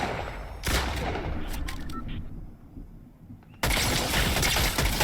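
Video game gunfire in Fortnite: sharp bursts of shots from several directions, a loud volley at the start, scattered quieter cracks in the middle, then dense sustained firing at the end.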